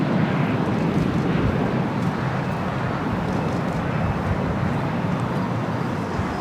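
An Airbus A340-300 airliner at LAX airport produces a continuous loud, broadband engine roar and rumble that holds steady throughout, with no talk.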